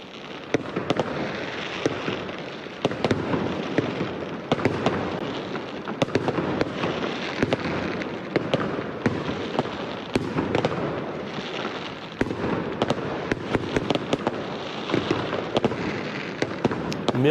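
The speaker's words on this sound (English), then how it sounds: "Fireworks were set off, celebrating the historic win." Fireworks crackle and pop continuously at a distance, a dense rolling stream of bursts with no clear pauses.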